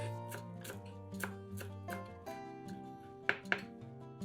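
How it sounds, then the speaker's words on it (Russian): A knife chops a bunch of fresh parsley and dill on a board with a series of soft, evenly spaced taps, faint beneath a sustained musical backing, with two sharper knocks near the end. "Измельчаем ножом пучок зелени. Я использую петрушку и укроп."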